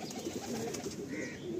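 Andhra and Madrasi pigeons coo softly and steadily at close range, with the low murmur running continuously and no talking over it.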